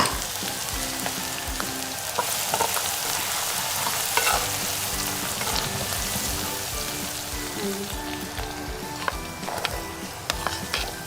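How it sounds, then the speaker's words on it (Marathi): Ginger garlic paste and green chilies frying in a clay kadai for dhaba-style chicken, a dense steady sizzle with occasional spoon scrapes and pops, close and continuous without speech. "मस्त तडतडल्यावर आपण त्याच्यामध्ये अद्रक लसूणची पेस्ट टाकणार आहोत आणि हिरवी मिरची पण मी त्याच्यातच घेतली होती करायला"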